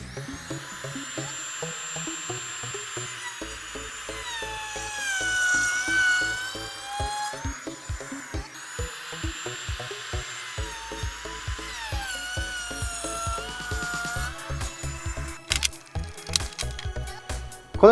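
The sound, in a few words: wood trimmer router cutting V and U grooves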